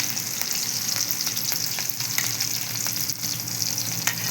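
Chopped garlic and green chillies frying in hot oil for a spicy Maggi noodle dish, a steady loud sizzle and crackle with a few scrapes of stirring, close up and without talk.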